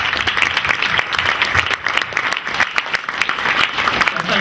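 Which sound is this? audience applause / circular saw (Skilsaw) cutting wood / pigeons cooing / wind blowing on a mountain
audience applause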